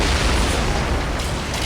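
Heavy cannon fire from warships in a naval battle in Assassin's Creed Origins, a dense continuous rumble of booms with no clear gaps, loud and sustained.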